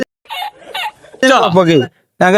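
Chicken clucking in short bursts, close by, followed by a louder drawn-out squawk and another call starting at the end.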